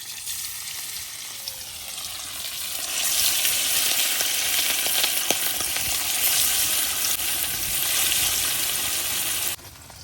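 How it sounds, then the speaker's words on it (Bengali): Fish sizzling in fish oil in a wok, a steady broadband frying hiss that swells louder partway through and continues without a break until it drops away just before the end. "এই মাছের তেলে একটু মাছগুলা বাজে নিয়ে"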